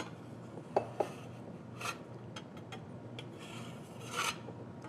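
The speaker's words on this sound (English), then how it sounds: "We'll get this into the bowl using our bench scraper." A bench scraper rasps across a cutting board, pushing chopped chives into a bowl, with a few soft scrapes and light taps, quiet and close.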